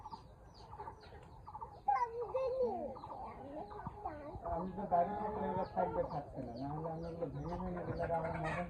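Tiger chickens cluck steadily, close by, while pecking at soaked, swollen fenugreek seeds, with a voice talking over the busy clucking throughout.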